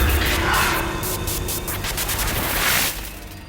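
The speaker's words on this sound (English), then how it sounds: "a burst of white noise pierced my ears" A sudden burst of harsh white-noise static from a screen heard through headphones, loud and broadband, holding steady for about three seconds before dropping away.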